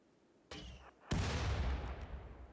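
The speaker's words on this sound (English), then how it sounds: "If there's any casters, we'll probably launch grenades at these guys." Grenade launches in a medieval-themed colony video game, two sharp blasts in quick succession, the second a louder, heavier boom with a long rumbling tail.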